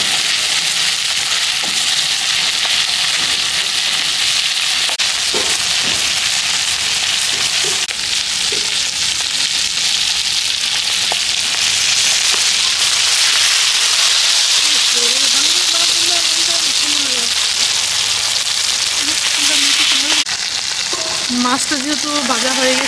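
A whole fish frying on a griddle at an outdoor village picnic sizzles loudly and continuously, with voices murmuring underneath and occasional scraping.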